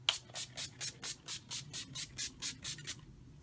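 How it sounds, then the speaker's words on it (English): Makeup setting spray spritzed in about eleven short, even bursts at a steady rhythm, close and fairly quiet, with no talking. "I like the spritzer. It gives a nice, steady, even spray."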